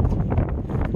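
Steady wind noise buffeting the microphone while driving, loud and continuous for about a second with no talk.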